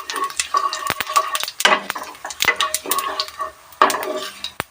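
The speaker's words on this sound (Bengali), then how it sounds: "আমরা ভালো করে ভাজবো" A bay leaf, two dried chillies and a spoonful of whole cumin fry in hot oil for a vegetarian Bengali cabbage dish, a steady sizzle broken by sharp clinks and scrapes of a spoon against the pan, close and fairly loud.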